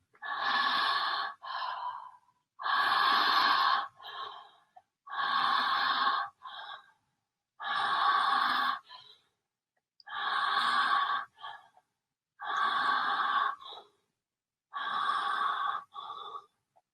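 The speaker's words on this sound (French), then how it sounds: "Je te montre cette respiration." Deep breathing exercise: seven forceful, evenly spaced breaths, each a long rushing inhale or exhale followed by a short softer puff, close to the ear with silent gaps between and no speech.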